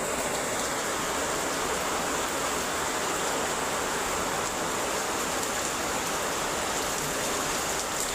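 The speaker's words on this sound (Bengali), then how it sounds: "অনেক বৃষ্টি পড়ে।" Heavy rain pours steadily onto a veranda, a dense, continuous wash of hiss and patter filling the whole stretch at close range with no voices.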